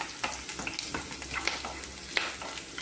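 Onions frying in oil with mustard seeds in a pan while bendakaya tikora is cooked, giving a steady soft sizzle with scattered crackles and a few stirring scrapes, close by and with no talk.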